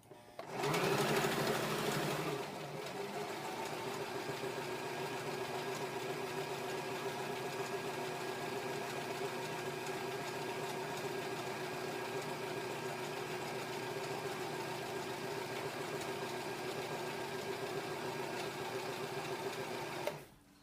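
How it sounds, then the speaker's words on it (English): A sewing machine stitching a fabric pouch runs in one long, steady, even hum and rapid needle rattle, close and continuous, with a brief louder burst at the start. "So I'm going to push on my pedal and I'm going to start sewing."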